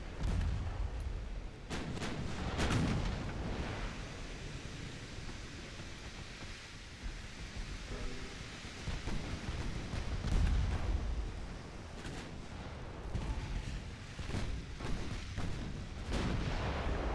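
Warship guns boom from a naval battle game set in an 1892 French campaign, with repeated heavy firing over a constant roar of sea and wind, some shots close and loud, others softer and more distant.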